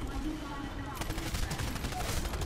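Rapid gunfire in the Titanfall video game, a dense spread of overlapping shots and bursts crackling steadily for a couple of seconds, with a voice faintly present underneath.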